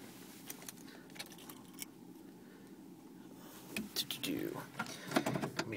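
A bunch of remote key fobs jangles inside a 2005 Dodge Ram 1500 Hemi Quad cab, first as light scattered clicks, then as a denser, nearby metallic rattle, with a voice faintly underneath.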